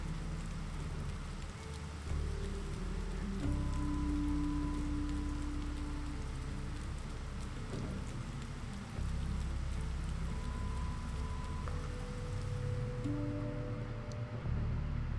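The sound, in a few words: rain falling in a video game town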